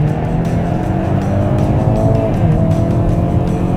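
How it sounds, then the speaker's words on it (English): A 2022 Hyundai Kona N hot hatch SUV pulls hard off a launch-control start, its engine roaring loudly and continuously up through the revs, heard close from inside with no talking. "Got the launch control to work, guys. We're going."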